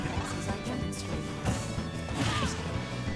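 Smash attacks landing in Super Smash Bros. during an amiibo match between Lucina and Peach on the Wii Fit stage, a run of punchy crashing hits and whooshes over continuous game music and crowd noise.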